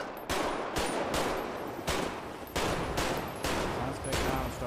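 Loud, sustained gunfire in GTA V during a police shootout at a bank, with repeated bursts of rapid shots crackling almost continuously over about five seconds, close and dense.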